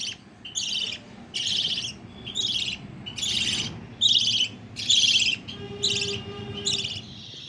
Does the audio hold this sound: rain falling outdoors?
no